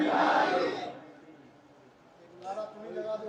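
A crowd roars a religious slogan such as Nara-e-Takbir in unison, a loud massed shout that fades, then a second chant begins after a short pause, with voices swelling again at the end.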